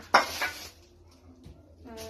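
A metal frying pan clanks sharply once, then a second softer knock follows, with faint rattling and a quiet voice-like sound at the end.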